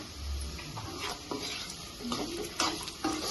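Boiled mutton pieces frying with salt and turmeric for a dry mutton fry, a close sizzle broken by repeated scraping and knocking of a spoon stirring through the pan.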